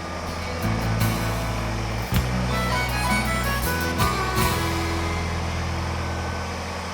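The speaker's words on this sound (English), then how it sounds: "I want to test and see, make sure the tractor can still lift this." A tractor engine runs steadily while its loader lifts a bucket a little over half full of scraps, a loud close rumble whose pitch shifts several times as the load rises, with no talking.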